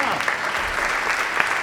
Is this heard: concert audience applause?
yes